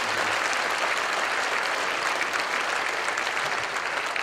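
Sustained applause from a church congregation at Yongin Jeil Church, a steady dense wash of many hands clapping with no gaps, honoring the church elders.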